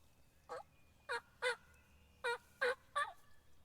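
Wild turkey calls ring out from a distance, six short yelping bursts spaced irregularly over a few seconds against a quiet outdoor background.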